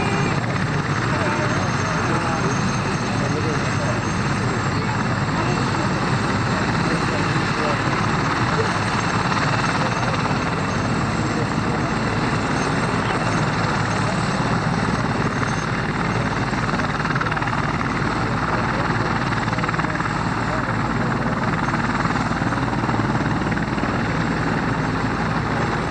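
An Apache helicopter's rotors and engine roar steadily at an air show at Hill Air Force Base, a loud, unbroken wash of rotor thump and turbine noise with muffled voices mixed in throughout.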